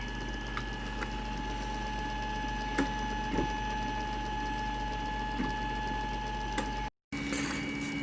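A 3D printer steadily prints the base of an RC paintball gun, giving a continuous mechanical hum with faint stepper-motor whine and occasional soft clicks, close and alone without talk.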